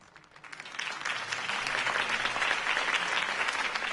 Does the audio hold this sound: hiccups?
no